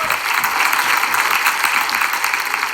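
Steady, dense applause from a studio audience for Piyush Joshi at a comedy roast show, loud and sustained with no pauses.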